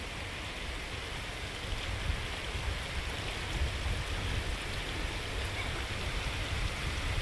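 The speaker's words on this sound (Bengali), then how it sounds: "ঠিক এরকম বৃষ্টি হয়েছে" Steady rain falling, a dense even hiss of drops on surfaces that holds constant throughout, fairly close and alone with no voices.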